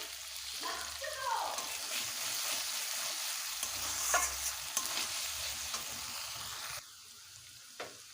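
Spice paste and a few green chilies frying in hot oil for begun posto, a steady close sizzle with stirring scrapes throughout that quiets near the end.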